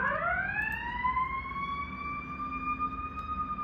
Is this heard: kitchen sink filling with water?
no